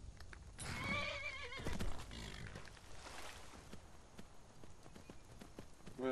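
A horse in the Skyrim VR video game lets out a loud, wavering whinny lasting about a second, followed by scattered clip-clop hoofbeats and game ambience.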